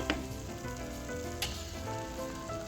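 Mawa and sugar stirred in a pan for kesar elaichi peda, with a soft, continuous scraping sizzle and two brief clinks of a spoon against the pan.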